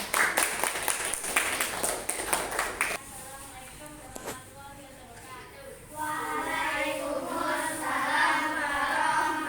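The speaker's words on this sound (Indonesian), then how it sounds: "Oke, beri tepuk tangan, Nak, buat Nuril." Children in an Indonesian classroom applauding a classmate, a burst of fast, dense clapping for about three seconds, followed by a teacher speaking.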